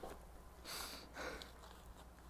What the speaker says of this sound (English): So many sniffles.